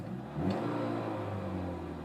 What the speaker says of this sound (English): But one last rev.